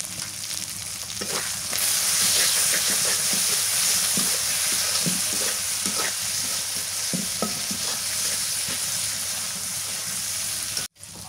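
Spices for a chicken pulao are stir-fried in a pot on a clay stove, a loud steady sizzle with scraping stirring strokes close by throughout, and no voices.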